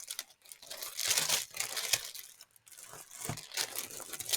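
Scrap paper crinkles and rustles as hands rummage through a folder of scraps, with continuous close crumpling and shuffling that rises and falls in bursts.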